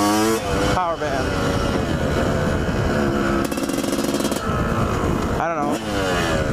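A fast dirt bike engine revving hard and loud, rising and dropping in pitch as it changes speed, with people talking over it.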